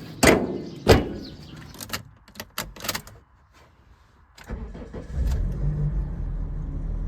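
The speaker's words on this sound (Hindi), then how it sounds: "स्टार्ट हो चुकी है गाड़ी" A car sits dirty after a trip from Faisalabad; a few sharp door and latch clunks and clicks come first, then the engine cranks and catches into a steady low idle rumble.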